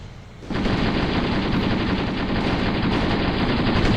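Rapid, sustained machine-gun fire from a tank's rear gunner in a war video game, loud and close, starting abruptly and continuing without a break.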